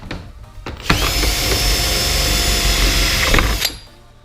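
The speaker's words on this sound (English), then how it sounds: "just drill it like this" Power drill boring a hole for a splitter extension on a 2016-2018 Camaro SS with ZL1 addons, one sustained loud whine of about three seconds with a sharp start and stop, close up.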